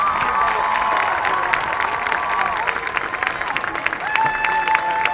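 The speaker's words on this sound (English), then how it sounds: "let's please give another round of applause for all of today's participants" Applause from a crowd for participants at a marching band competition, steady clapping with some cheering and shouts mixed in, sustained for a few seconds.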